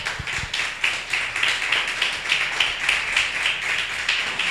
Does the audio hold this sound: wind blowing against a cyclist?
no